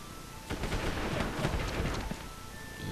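Gunfire in the Sid Meier's Pirates video game, a dense crackling volley of musket shots that rolls on for a few seconds like distant rumbling, with a faint steady musical tone underneath.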